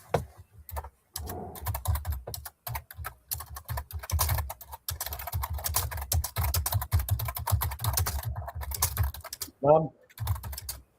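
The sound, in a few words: typing on a computer keyboard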